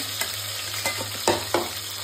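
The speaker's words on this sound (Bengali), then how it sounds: "পেঁয়াজটা ভালো করে ভাজা দিয়ে" Chopped onions frying in a pan for chicken korma, a continuous close sizzle with a few short stirring scrapes, no voices.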